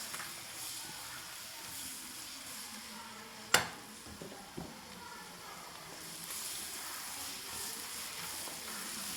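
Chopped garlic frying in a pan with a soft, steady sizzle and hiss, interrupted by a sharp clatter and a second smaller knock, then the sizzle swells a little toward the end.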